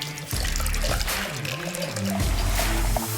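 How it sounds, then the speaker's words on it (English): Coconut water pours from a container in a steady trickling stream for a protein shake, the pitch of the splash rising slightly as the vessel fills over a few seconds. "Start with some coconut water"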